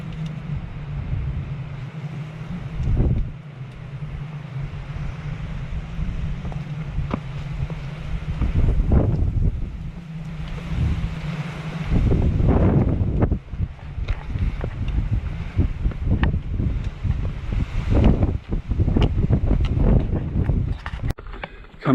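Deep wind rushes across a mountain ridge on a kauri forest trail, a loud low buffeting roar that surges in gusts and pounds against the microphone.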